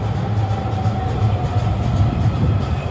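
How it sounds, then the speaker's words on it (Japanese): An Osaka Metro Sakaisuji Line train rolls loudly into Nagahoribashi Station, a heavy rumbling drone with a steady tonal whine and rhythmic wheel clatter. "1番線に到着の電車は日本橋動物園前方"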